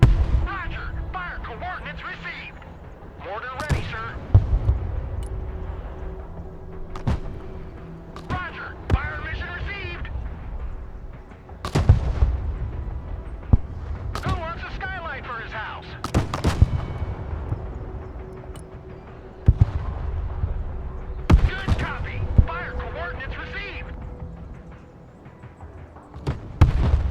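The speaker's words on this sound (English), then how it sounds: "Fire coordinates received. Mortar ready, sir." Mortar artillery fire in the video game Broken Arrow: repeated sharp booms and thuds at irregular intervals, loud and close, over a steady battlefield rumble and radio chatter with voices talking throughout.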